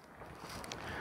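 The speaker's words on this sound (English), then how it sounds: "The wind has been howling and gusting" Outdoor wind on a cold day, a steady broad rushing roar with gusty swells close to the microphone, with no voices.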